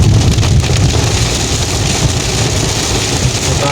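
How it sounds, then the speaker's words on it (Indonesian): Heavy rain drumming steadily on a car while driving slowly through a forest with low visibility, a dense, continuous roar with low road rumble underneath, loud and unbroken throughout. "Kita pelan-pelan saja melewati hujan di tengah hutan ini guys. Hujannya lebat"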